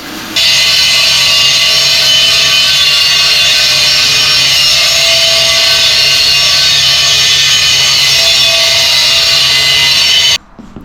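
A power grinder smoothing the edge of a DIY beadlock wheel, a loud, continuous close-up whine held steady for about ten seconds before cutting off abruptly.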